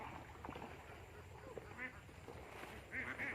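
Farm ducks feeding on mixed feed give a few short, nasal quacks at mid distance, scattered under a person talking nearby and steady outdoor background noise.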